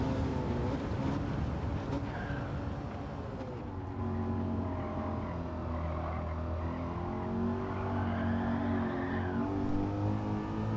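A race car engine in Gran Turismo 7 drones steadily and loudly throughout, its pitch rising and falling slightly with the throttle, with no voices over it.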